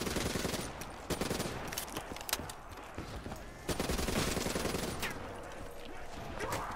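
Rapid-fire bursts from an ICR rifle in a zombies-style video game, sharp repeated shots stacking into quick volleys over several seconds, loud and close, with brief gaps between bursts.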